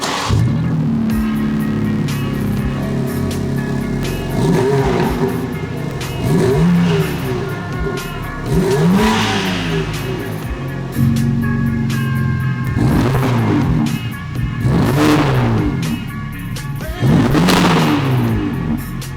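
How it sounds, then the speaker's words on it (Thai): A 2022 BMW M3 Competition G80 engine revs repeatedly through the stock exhaust with VRSF downpipes, rising and falling in several loud bursts, close by, with no talk. "ท่อไอเสียเดิม พร้อมดาวไป VRSF"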